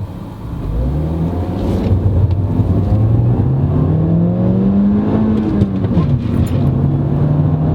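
A 2013 Mini Cooper accelerates hard from a standstill toward 60 mph, its engine note climbing steadily through the gears with brief dips at each shift, heard loud and continuous from inside the cabin.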